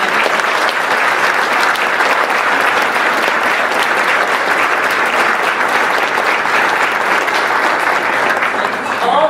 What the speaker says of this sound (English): this round of applause is for you and all of the hard work that you put into this event